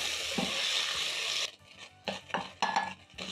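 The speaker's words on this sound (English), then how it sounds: "Stir in the tomato paste and tomato into my delicious onions." Tomato paste and tomato stirred into onions cooking in a pan: a soft sizzling hiss at first, then a few scraping spoon strokes against the pan, quiet and close.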